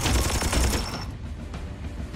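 A rapid burst of gunfire in Warhammer 40,000: Chaos Gate – Daemonhunters crackles for about a second, then drops to a duller, quieter rumble.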